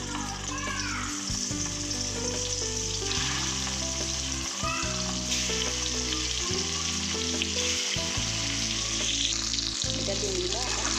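Boiled eggs fry in hot oil in a wok with a loud, continuous close sizzle, stirred now and then, while children's voices and household sounds run faintly underneath.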